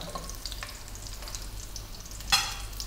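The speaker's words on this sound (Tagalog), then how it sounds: "ilalagay na po natin yung ating dried bay leaves. So, gisa-gisa lang." Dried bay leaves sautéing in a pan for pig feet adobo: a soft, steady sizzle with light stirring, then one sharp scrape of the spatula near the end, close up.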